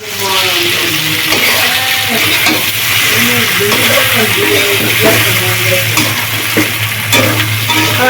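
Chicken curry meat being stir-fried in a pan for a village-style dish, a loud, steady sizzle and frying hiss with repeated scraping stir strokes throughout, close up.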